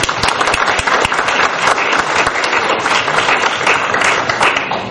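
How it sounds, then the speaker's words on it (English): Applause from an audience at a forum on religion and religious freedom, a full, continuous wash of many hands clapping at close range for several seconds, steady throughout and tapering slightly at the end. "I would like you to give each of you a round of applause for being here"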